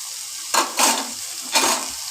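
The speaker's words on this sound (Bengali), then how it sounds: "দেখো এইভাবে সুন্দর করে লাল লাল লাল লাল করে একদম ভেজে নিতে হবে" Puimituli, the seeds of Malabar spinach, fry in a wok with a constant sizzle broken by three loud, rushing bursts as they are stirred.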